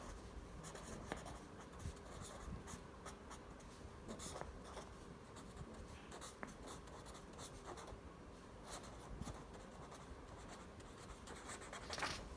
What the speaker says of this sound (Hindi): लिख सकते हैं इधर